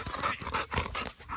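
Close, rhythmic panting from a dog with brief whimpers mixed in, loud and steady throughout, with no talking.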